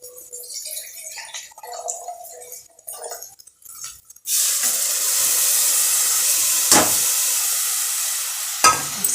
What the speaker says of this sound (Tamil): அரிசி போட்டு அந்த மசாலாலே நல்லா வதக்கணும்.